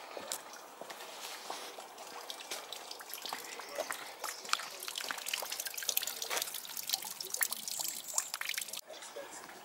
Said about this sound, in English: that's the water squirter for the heron